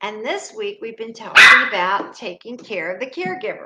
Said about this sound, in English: she barks in the background